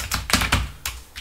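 Typing on a computer keyboard while entering Python code, a handful of crisp, close key clicks in an irregular rhythm with brief pauses between strokes.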